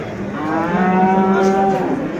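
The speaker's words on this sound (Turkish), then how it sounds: "Şöyle bakalım yine güzel inekler var arkadaşlar." A cow moos loudly and close by at a livestock market in Göksun, Kahramanmaraş, one long drawn-out low call that holds steady for about two seconds.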